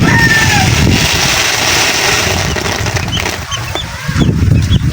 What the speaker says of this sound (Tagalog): Ana po tayo manok.